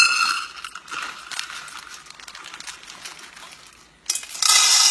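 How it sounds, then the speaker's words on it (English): Dry kidney beans are poured into a big pot, a dense rattling patter of hard beans hitting metal, fading briefly before a louder burst of clattering at the end. "I'm going to add a cup of my kidney beans to a big pot."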